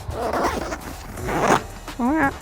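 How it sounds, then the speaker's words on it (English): The zipper on the carry bag of a Quick-Set Clam ice-fishing tent is pulled in several short rasping strokes, close up, with a woman's speech and handling noises mixed in. "it's probably easier to start at the top and zip down"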